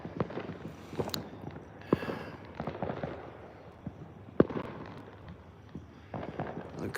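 Fourth of July fireworks go off in the distance as scattered pops and bangs, with one sharper report partway through, while faint background activity carries on outdoors.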